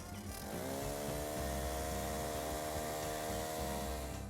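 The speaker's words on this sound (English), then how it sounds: "I'm going to use the power auger. It's a small 4-stroke motor with an auger and blades below that basically shaves" Small four-stroke power ice auger whose blades shave through lake ice to bore a hole, revving up from a start and then holding a steady, loud, buzzing engine drone with no talk.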